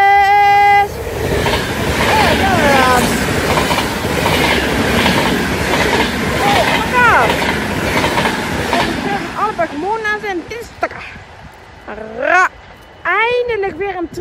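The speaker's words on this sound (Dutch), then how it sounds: "Eindelijk weer een trein, hé." A train rumbles past close by in Sint Joost, Netherlands, with clattering wheels and squealing, a horn sounding at the start, while people talk and exclaim over it.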